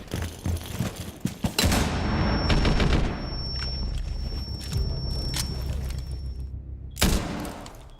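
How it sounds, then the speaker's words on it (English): Frag grenade in Rainbow Six Siege blasting with a loud heavy boom followed by a long ringing tone and rumble, then a second sharp burst near the end, footsteps and gunfire around it. "Throwing frag grenade."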